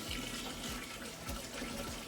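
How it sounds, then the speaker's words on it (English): A four-gallon bucket of water is dumped into a new saltwater aquarium tank over sand, giving a continuous close splashing and gurgling pour throughout. "Can I pick up this bucket full of 4 gallons of water and dump it in the tank without spilling it?"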